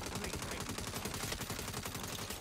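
Rapid gunfire from the video game Saints Row, a dense, continuous burst of automatic shots close up and loud, no talking over it.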